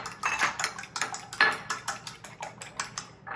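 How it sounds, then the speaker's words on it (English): Egg being scrambled in a bowl: a fast run of light clinking and tapping strikes, a utensil rattling against the bowl in an uneven rhythm, close and fairly quiet with no talk. "And I'm going to scramble it a little bit."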